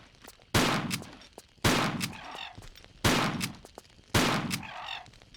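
Four loud shotgun blasts from a Tomb Raider 4 custom level, evenly spaced about a second apart, each a sharp crack with a short ringing tail, no voices.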